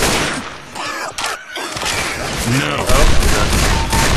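Gunfire in Left 4 Dead, with rapid bursts of friendly fire hitting a teammate, loud and close amid game noise, while people talk over the shots.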